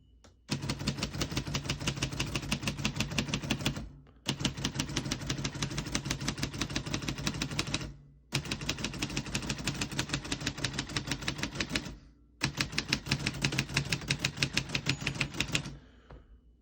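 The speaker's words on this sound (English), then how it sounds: "Once you hear the bell, you're at the end of the margin." A 1947 Royal Quiet De Luxe manual portable typewriter typed in four fast, steady bursts of crisp keystrikes, each ending in a short pause for the carriage return, close and loud with no talking.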